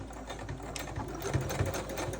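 Sewing machine stitches a thick fabric bowl cozy, its close, steady mechanical whir running throughout with a faint rhythmic tick of the needle and no talking.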